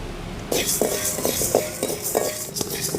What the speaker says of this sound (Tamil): அடுத்ததான் நம்ம வெள்ளை உளுந்து சேர்த்து வறுத்துக்க போகிறோம்